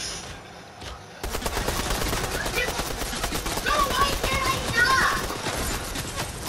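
Rapid SMG gunfire in Fortnite trios rattles in dense bursts through most of the clip, following a brief quieter lead-in, with sharp clicks and crackles layered over a steady, loud game mix.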